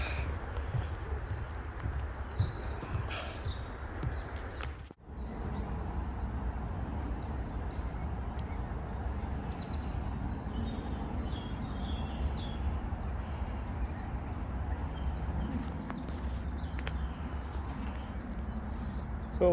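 Birds chirp and sing faintly in the distance around a walking route near a boardwalk by the sea, over a low steady background rumble.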